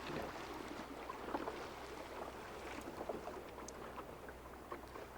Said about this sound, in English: hear the water lapping on the hull